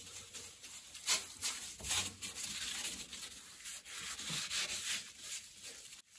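A wet kitchen towel loaded with wood ash is rubbed over wood-stove door glass, making a steady, soft scrubbing and rubbing sound, close but fairly quiet, with no talking.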